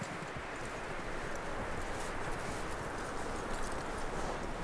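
Horse hooves clip-clop steadily and fairly close in the video game Red Dead Redemption 2, over a dense, noisy background, with no voices.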